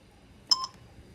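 Two short telephone dialing tones beep in quick succession on a recorded phone call, clear against a quiet line.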